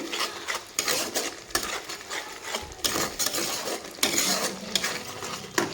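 Masala with turmeric and Kashmiri chili powder sautéed for a vegetarian green banana dish, loud rhythmic scraping and stirring of a utensil against the pan over a soft sizzle, close up.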